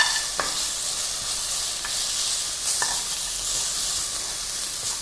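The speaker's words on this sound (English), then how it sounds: "Now I'm adding the ginger garlic paste." Ginger garlic paste and cashew nut pieces frying in hot oil while preparing a red gravy, a loud, continuous bright sizzle up close, with a few light clicks of a stirring spoon against the pan.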